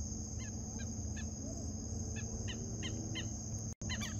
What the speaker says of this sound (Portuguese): Ó, os passarinhos cantando.